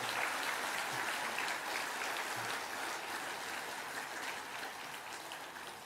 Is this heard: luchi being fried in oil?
no